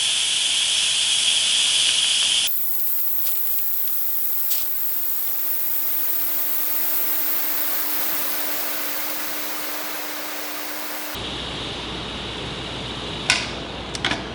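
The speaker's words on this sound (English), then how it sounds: "we're going to release the steam" Pressurized steam venting from an Instant Pot pressure cooker after cooking elderberry syrup, a loud continuous hiss that holds steady for several seconds before cutting off abruptly, followed by faint clicks.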